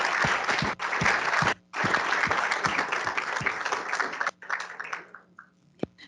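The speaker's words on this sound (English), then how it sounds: "I think we should have a round of applause for all the work" An audience at an environmental forum luncheon breaks into sustained applause, a dense wash of clapping that runs for several seconds, briefly dips, then thins out into a few scattered last claps.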